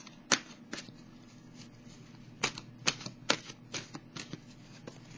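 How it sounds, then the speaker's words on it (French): Tarot oracle cards are shuffled and drawn, giving a series of sharp, crisp flicks and slaps spaced irregularly, close and fairly quiet in an otherwise still room. "je vais piger une carte de l'oracle de l'âme intuitive"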